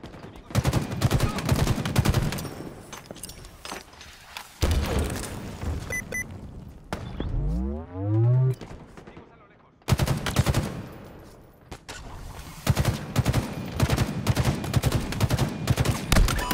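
Gunfire in the shooter video game Halo Infinite during a ranked capture-the-flag match: rapid automatic bursts crackle in dense volleys, broken by a swooping energy sound and a deep thump, with brief pauses between close, loud salvos.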